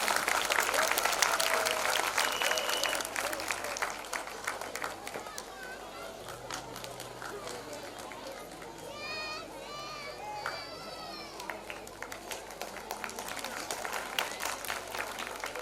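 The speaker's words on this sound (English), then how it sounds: "Parents, please encourage them with a big round of applause." A school annual day audience of parents applauds a nursery class performance, steady clapping and crowd chatter filling a hall, swelling again toward the end while voices murmur underneath.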